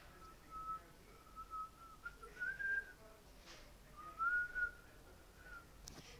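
Someone whistles a tune, clear melodic notes rising and falling in short phrases, fairly close and moderately quiet over a soft background.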